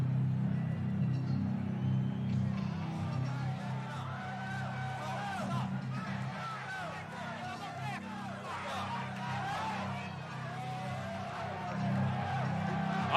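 Boxing arena crowd roaring as heavyweight champion Mike Tyson enters the ring before facing Michael Spinks, a steady dense hubbub of cheers and whoops with a low constant rumble underneath and occasional shouts rising out of it.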